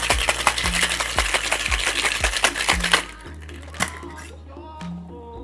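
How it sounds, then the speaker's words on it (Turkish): Ice cubes clatter in a glass as a pineapple cocktail is stirred, sharp rhythmic clinks repeating steadily, then slowing to a few scattered knocks. "bol buzuyla karıştırıyoruz"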